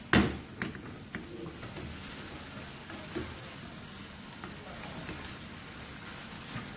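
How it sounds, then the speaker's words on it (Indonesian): Mustard greens stir-frying in a pan, a steady close crackle and patter of sizzling with a few sharper clatters early on, continuous and fairly quiet with no talk. "Nah kemudian aduk sampai semuanya tercampur, sampai sawinya ini layu."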